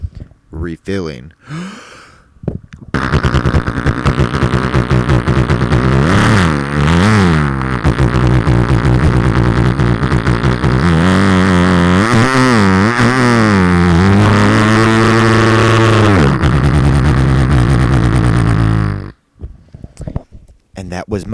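A single voice mimics a dirt bike motorcycle, buzzing through a long run of rising and falling revs for about sixteen seconds, loud and close, with brief breaths before and after.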